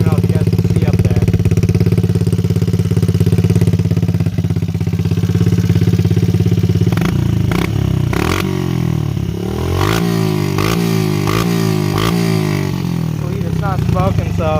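Pit bike engine right after a burnout, loud and close, holding a steady high drone before dropping into uneven clattering revs and sputters, with someone talking over it.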